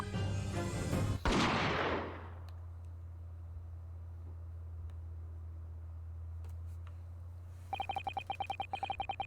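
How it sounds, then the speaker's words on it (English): A sharp gunshot from the video game Great Ace Attorney 2 cracks loudly near the start and rings into a decaying tail, followed by a low steady drone and later a rapid run of bright clicking tones. "Jigoku shot Asogi from the shadows"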